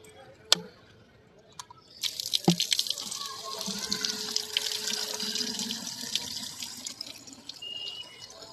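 Water poured over garden plants, beginning with a couple of sharp knocks, then a steady splashing gush that runs for several seconds nearby before tapering off.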